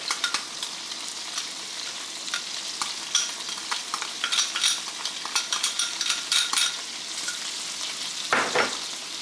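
Fresh garlic sizzles in butter in a pan, a steady close frying hiss broken by scraping stirs, with a brief louder clatter near the end.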